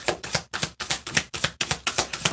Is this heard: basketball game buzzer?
no